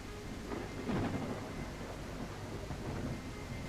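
Steady rain with a rolling rumble of thunder swelling around the one-second mark in the dinosaur survival game The Isle, a continuous stormy wash with no voices.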